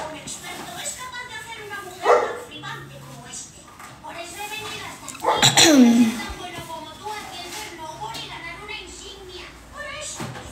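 A dog barks a few times in a home setting, with sharp yips standing out around the middle, heard under a person talking throughout.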